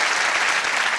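Brief burst of steady studio audience applause at a television entertainment show, full and continuous from start to finish.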